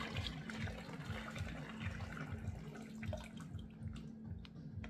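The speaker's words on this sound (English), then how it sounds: "I put the hot water" Hot water pours steadily and splashes onto soy and wood pellets for several seconds, close and fairly quiet, with a low hum beneath and no talking.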